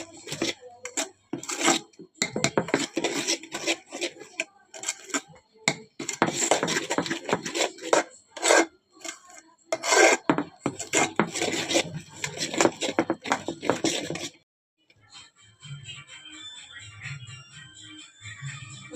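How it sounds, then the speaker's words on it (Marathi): A spoon stirs mixed-dal appe batter in a bowl, giving rough, rhythmic scraping and slapping strokes in bursts with short pauses, then a quieter passage at the end. "याला व्यवस्थित मिक्स करून घ्यायचं"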